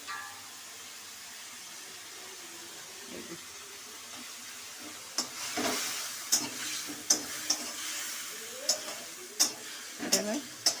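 Spice paste with chopped tomato sautéing in a pan for an egg omelette curry, with a faint sizzle and intermittent scraping stir strokes from a spatula in the second half, close and fairly quiet.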